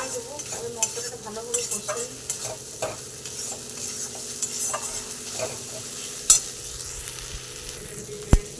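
Spices with dry chilli and tomato stir-fried in a pan for chicken kosha, a spatula scraping and tapping in repeated strokes over a continuous sizzle, with a couple of louder knocks.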